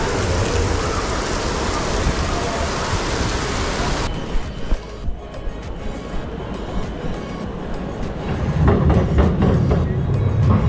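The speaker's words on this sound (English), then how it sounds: "Look how heavy the rain's gotten" Heavy rain pouring on a city street at night, a loud steady hiss of downpour that briefly thins, then swells again with a deeper rush near the end, with no clear speech over it.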